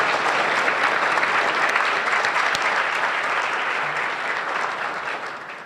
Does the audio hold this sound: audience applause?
yes